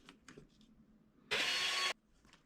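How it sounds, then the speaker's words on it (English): A blade trims a soft plastic arm off the GF-01 chassis of a Tamiya RC Heavy Dump Truck, giving one short, close scraping cut of about half a second amid faint quiet handling clicks. "I've just cut away the little arm there that's attached to the chassis"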